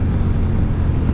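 A reprogrammed KTM 1190 Adventure motorcycle gives a steady, loud, deep engine and exhaust roar that holds constant for about a second, close to the microphone, with no talking.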